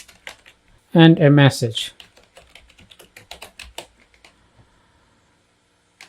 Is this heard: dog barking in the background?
no